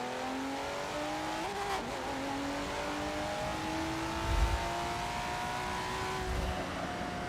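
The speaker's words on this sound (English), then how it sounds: "I'm actually destroying this car with my shifting" A race car's engine in Forza Motorsport 7 holds a steady, rising whine through the gears, with brief dips where shifts break the tone, steady and fairly quiet throughout.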